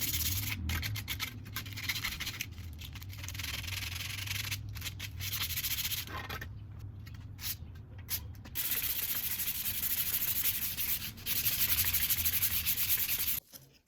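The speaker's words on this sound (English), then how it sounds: "It's a low grade sandpaper." Low-grade sandpaper rubs in steady, close scratchy strokes for about fourteen seconds, with a brief quieter break partway through and no talking.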